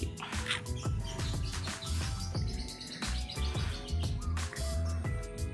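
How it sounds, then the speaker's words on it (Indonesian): Birds chirp and tweet repeatedly over a steady background rush of a small gurgling stream, with bright short calls scattered throughout. "masih bisa dengar suara burung"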